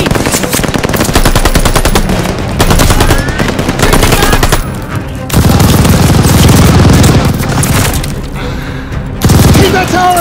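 A tower machine gun fires in Call of Duty: Vanguard's Operation Tonga campaign mission, with long, loud, sustained bursts and booming impacts that barely pause across the whole stretch of battle noise.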